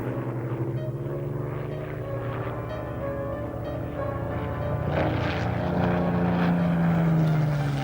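Propeller engines of Fokker fighter aircraft drone in archival Winter War footage of Soviet-Finnish air combat, a loud, rough, continuous hum that swells and rises in pitch toward the end, with no talk.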